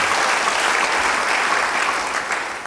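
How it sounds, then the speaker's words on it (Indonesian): A church congregation breaks into loud, sustained applause, a thick steady wash of many hands clapping that holds evenly before easing slightly at the end. "Yang percaya, beri tepuk tangan bagi dia."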